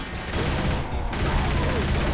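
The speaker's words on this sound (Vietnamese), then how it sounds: "Mẹ nó tiếng súng lớn như quỷ vậy." Sustained rapid gunfire in the video game Left 4 Dead 2 roars continuously, loud and dense, with a brief dip partway before the shooting carries on.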